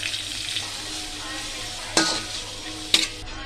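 Tomato with cardamom, cloves, cinnamon and asafoetida sizzles steadily in a pan while a spoon stirs, with a continuous close frying hiss broken by two sharp scrapes of the utensil against the metal.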